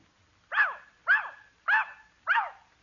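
A dog on a classic comedy show barks four times in a steady, evenly spaced sequence, each bark clear and close, with no talking over them.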